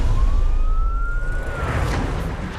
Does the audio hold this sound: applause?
no